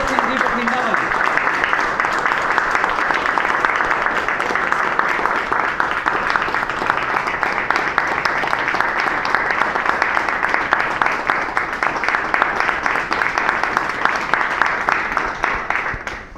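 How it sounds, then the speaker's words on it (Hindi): Sustained applause from a large crowd, steady and dense claps continuing for the full length without pause. "एक बार उनके लिए आपकी तहे दिल से जोरदार तालियां चाहूंगा। गुरतेज सिंह जी बठिंडा वाली।"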